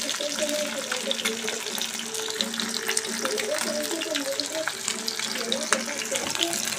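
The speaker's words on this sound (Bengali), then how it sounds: "মাছটা ভাজা হচ্ছে।" Bhetki fish, rubbed with salt and turmeric, frying in hot oil in a wok, giving a steady close crackling sizzle with dense spitting pops throughout, with faint voices or background sounds underneath.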